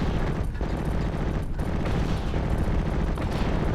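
Battle in the video game Steel Division: Normandy 44, with dense, continuous rifle and machine-gun fire mixed with dull mortar booms, a steady rumbling barrage with no clear gaps over a few seconds.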